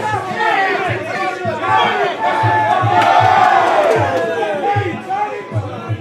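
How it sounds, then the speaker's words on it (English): Crowd at a live combat-sports fight night shouting and cheering, a loud, roaring swell of voices with whoops and yells, punctuated by rhythmic low thumps. "Barely hear it over the crowd. The shout from the boys."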